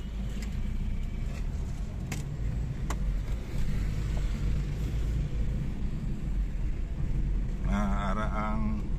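Highway traffic gives a steady low rumble of passing cars and engines, with a brief higher tonal whine from a vehicle near the end.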